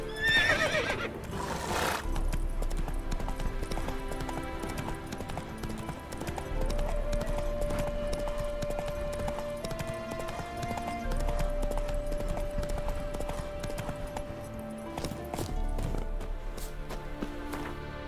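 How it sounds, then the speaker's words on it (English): Roach, the horse in The Witcher video game, gallops with rapid, steady hoofbeats and gives a loud neigh near the start, over game music and ambience. "Atı değiştirdi mi şimdi? Yeni at mı bu?"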